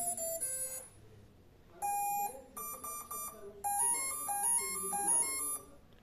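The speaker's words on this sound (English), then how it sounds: "We are hearing the confirmation tone." A T-Motor AM480 ESC sounds its confirmation tones during throttle calibration: clear electronic beeps in short melodic runs, loud and close, with rising and falling note sequences and brief pauses between groups.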